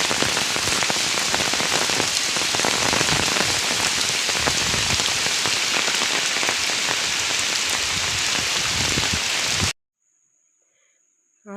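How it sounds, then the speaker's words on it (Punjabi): Heavy, steady rain pours down in a dense, loud hiss for most of the clip, then stops abruptly into near silence. "ਹੁਣ ਆ ਗਿਆ ਜੀ ਮੀਂਹ"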